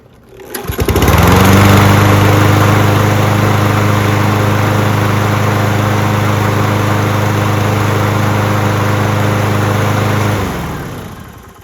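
A Toro Recycler lawn mower with a Kohler XT675 engine starts and runs at a steady, loud, close drone for about nine seconds before cutting off.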